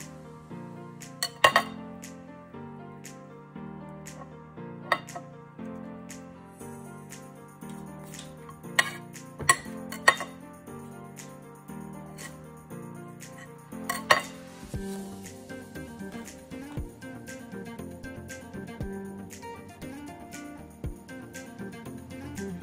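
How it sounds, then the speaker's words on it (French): Bayonne ham being cut into small pieces for a bagel: scattered sharp clinks and taps of a knife against a plate, set against a soft, steady musical background. "je vais couper des petits morceaux de jambon de Bayonne pour placer sur la base de mon bagel"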